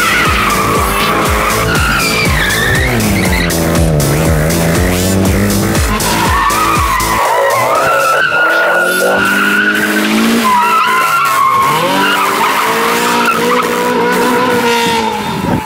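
Cars being thrashed at a motorsport event, their tires squealing in long, loud skids with roaring engines, continuous and close, swelling and shifting as the cars slide.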